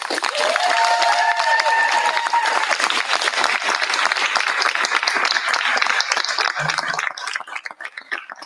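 Sustained audience applause fills a school board meeting room, many hands clapping steadily at close range, with a few faint voices and cheers, before the clapping tapers off near the end.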